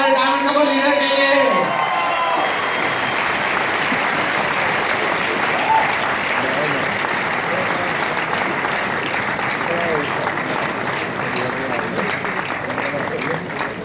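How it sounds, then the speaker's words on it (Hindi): A large audience bursts into loud, sustained applause for a diamond leader couple, dense clapping with some cheering that fills the hall steadily after a brief moment of talk at the start. "एक जोरदार तालियां हो जाए हमारे डायमंड कपल लीडर के लिए"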